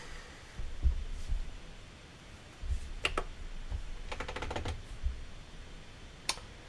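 Keyboard keys slammed hard while chords are played, a handful of sharp thumping knocks with gaps between them, close and fairly quiet over a low background murmur.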